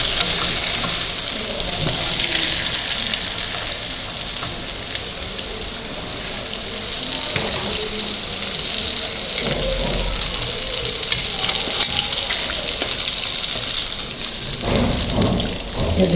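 Crispy chicken fries in a kadai of hot oil, a loud, dense, continuous sizzle that stays steady throughout with a few faint clinks, with no talking.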